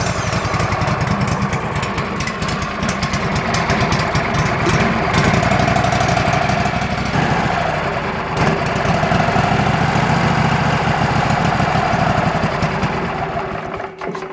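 A sawmill engine runs steadily with the tank fuel turned off while it burns what is left in the line. The close, loud idle chugs on without a break and no one speaks.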